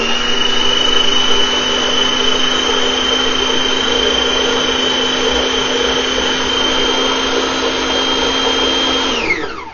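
Kitchen blender whizzing tomato pasta sauce ingredients for a meatball dish, a loud, steady high-pitched motor whir that runs unbroken for nearly ten seconds before winding down at the end.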